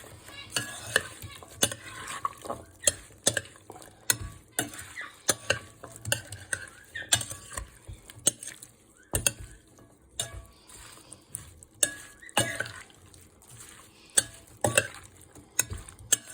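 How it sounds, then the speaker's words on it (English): Fresh fruit salad stirred with a spoon in a bowl with lemon juice and pulpy orange juice, giving repeated close wet clinks and squelchy scrapes in an uneven rhythm. "So now I'm going to mix it."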